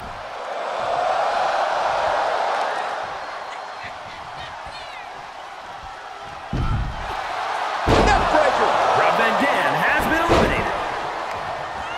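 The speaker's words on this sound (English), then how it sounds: "Shot after shot, they're slamming their face down." Wrestlers slam an opponent's face down over and over in a WWE 2K23 Royal Rumble match, sharp thuds cutting through a constant roar of arena crowd noise while a commentator talks over the action.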